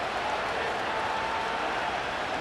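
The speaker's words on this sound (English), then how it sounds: "This crowd turning up the decibel level" A stadium crowd roars during a simulated Ravens vs. Rams football game in Madden 25. The wash of noise is dense and steady, fairly distant, and does not rise or fall.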